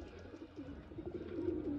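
Sialkoti pigeons coo softly in low, throaty, burbling phrases, fairly faint and close, over a dull background rumble.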